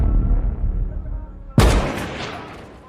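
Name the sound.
sniper gunshot in American Sniper film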